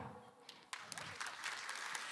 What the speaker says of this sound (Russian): Прекрасная публика, эти аплодисменты вам спасибо.